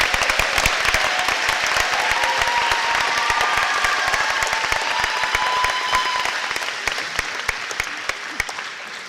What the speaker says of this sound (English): Let's give Ms. Sprinkle a round of applause.